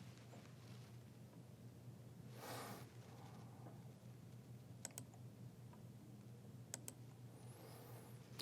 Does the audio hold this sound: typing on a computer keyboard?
yes